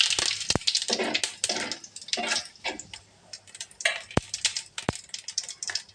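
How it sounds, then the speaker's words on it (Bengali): Cumin seeds crackling in the hot oil left from frying spiny gourd, heard as a run of sharp, irregular pops and ticks close by, with soft sizzling bursts between them. "কাঁকরোল ভাজার তেলটার ভিতরে আমি এখানে জিরা ফোড়ন দিয়ে দিয়েছি।"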